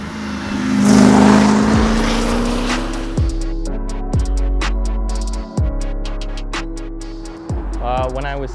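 A resurrected 1968 Dodge Dart with a 4-speed swap rumbles and revs while driving, with a dense engine roar that eases into a steady drone under someone talking.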